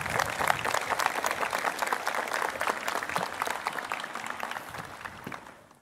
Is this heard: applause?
yes